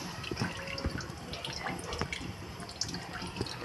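Boiled spinach being moved through cold water in a village-style kitchen gives soft drips and light splashes, with a steady watery trickle under it and no talk.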